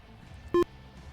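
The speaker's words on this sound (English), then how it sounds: "you guys might be hearing the beeps from auto indent" A single short electronic beep from auto indent in the racing game Forza Motorsport 7 sounds once, clear and close, over faint background hum.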